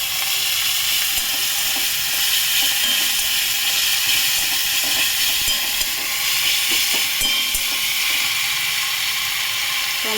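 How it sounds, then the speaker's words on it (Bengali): Onions fry in a pan for a katla fish belly and pointed gourd dish, giving a steady, even sizzling hiss that runs unbroken throughout with faint scattered crackles. "পেঁয়াজটা ভাজা হোক"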